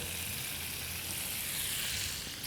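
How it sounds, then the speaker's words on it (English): Unsalted butter, three-quarters of a cup, melts in a hot skillet for Cajun char-grilled oysters, making a soft, even hiss that holds steady for a couple of seconds with no voices. "I'm going to start by adding our butter"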